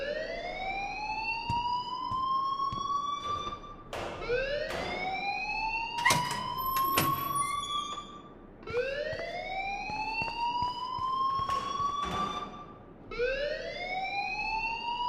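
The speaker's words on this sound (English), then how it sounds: "please turn off that alarm since that's your job" A school alarm in the video game Life is Strange wails in repeated rising electronic sweeps, each climbing tone lasting a few seconds before restarting, loud and continuous with no talking over it.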